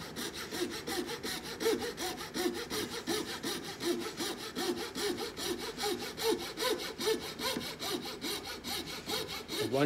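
Steady back-and-forth sawing through wood held in a vise while shaping a wood float handle, the rhythmic rasping strokes close and continuous for the whole stretch.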